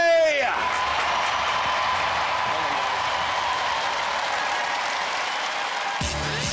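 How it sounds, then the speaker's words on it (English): Studio audience at a robot combat show bursts into loud, sustained applause with scattered cheers and whoops, a dense wash of clapping that holds steady for several seconds before stopping abruptly near the end. "Big round of applause"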